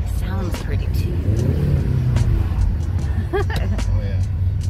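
Car engine in Key West, a low steady rumble with some revving that fills the background throughout, while people talk and a dog whines over it.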